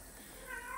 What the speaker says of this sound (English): Excuse the screaming cat because she's in heat.